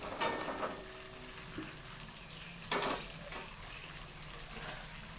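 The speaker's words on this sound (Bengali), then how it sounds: "এখন আস্তে আস্তে মিডিয়াম আছে আমি ভাজতে থাকবো যতক্ষণ না পটলগুলো ভালো সিদ্ধ না হয়" Pointed gourd (potol) frying with spices in a kadai over medium heat: a quiet, continuous sizzle broken by a few scraping stirs and clinks of a spatula against the pan.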